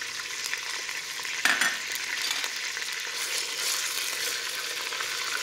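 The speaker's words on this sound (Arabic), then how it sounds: "نخليه يتقلى على خاطرو" Garlic fries in a pan with a continuous close sizzle and a stirring scrape, a brief clatter near the start, then steady hissing with no voices.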